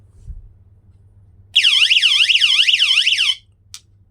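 A door-open alarm set with a rotary lamp siren, an ALBox MC521 magnetic door contact, sounds a loud warbling electronic siren in rapid repeated sweeps for about two seconds, then stops, followed by one brief faint beep.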